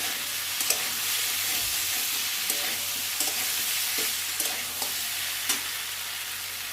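Spice paste frying in oil while being stirred steadily, a constant close sizzle under repeated light spoon scrapes and taps against the pan, with no speech.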